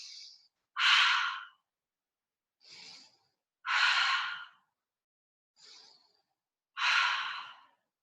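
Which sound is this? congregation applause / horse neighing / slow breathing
slow breathing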